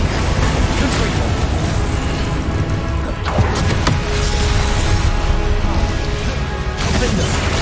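Explosive fire spell bursting in Hogwarts Legacy combat, loud and dense, with a rumbling blast and crackling debris over steady game noise and music throughout.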